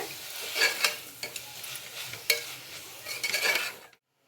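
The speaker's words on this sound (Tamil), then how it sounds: "நல்லா கலந்து விட்டுக்கோங்க" Vegetable biryani sizzles in a hot pan while a spoon scrapes and stirs it in quick irregular strokes, then the sound cuts off abruptly.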